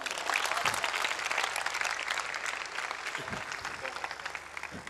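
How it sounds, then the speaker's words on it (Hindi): A church congregation claps loudly and continuously in a dense, sustained burst of applause, the crowd noise steady throughout with a few low thumps underneath. "पाकरू के लिए जोरदार तालियां बजाएं।"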